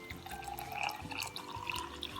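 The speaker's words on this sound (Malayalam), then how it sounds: "നമ്മൾ കുറച്ച് വെള്ളം ഒഴിക്കുന്നുണ്ട്" Water poured into a container for a turmeric and soap-powder colour-changing science experiment, a steady trickling splash with drip-like accents running through the short clip.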